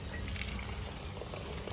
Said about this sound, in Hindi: थोड़ा सा पानी डाल बेटू।